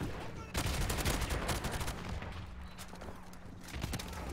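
Rapid G36 rifle fire from an online shooter game bursts out in quick repeated volleys, fairly faint and mixed with game sounds, with a brief voice in the background.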